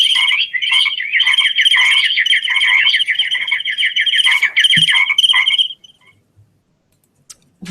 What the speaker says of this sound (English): how one bird talks to another bird at a different frequency from the frog